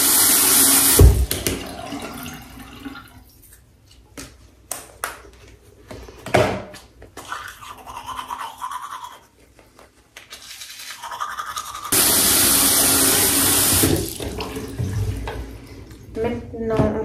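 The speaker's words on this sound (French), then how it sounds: "Je vais me brosser les dents." Teeth being brushed at a bathroom sink with the tap running, rapid scrubbing strokes between bursts of loud gushing water at the start and again near the end.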